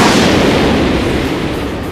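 A loud, broad explosion rumbles in a live-action Yu-Gi-Oh! duel, hitting hard at the start and then slowly fading as a sustained roar.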